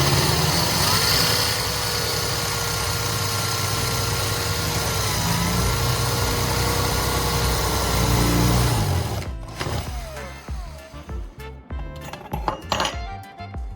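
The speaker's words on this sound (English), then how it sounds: "Alternatively, you can use a drill to remove the rivet." A power drill fitted with a metal bit drills straight through the center of a rivet head to remove it. A loud steady motor whine runs for about eight seconds, then breaks off into scattered metallic clinks and rattles.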